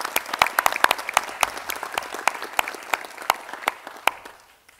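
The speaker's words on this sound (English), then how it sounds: "Please, can everyone honour our newest graduates with your applause." Audience applause at a university graduation ceremony, a sustained crowd clapping in a hall with distinct sharp claps near the front, steady throughout and fading out at the end.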